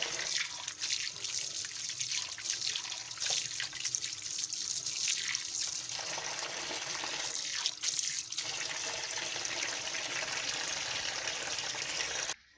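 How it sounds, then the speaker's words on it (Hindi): Cold water pours steadily from a tap over boiled spaghetti in a colander, a continuous close splashing and trickling rush that runs for about twelve seconds and then stops abruptly. "अब इसको हम छाने में छान लेंगे और इसके ऊपर ठंडा पानी डालेंगे ताकि ये आपस में जुड़े नहीं।"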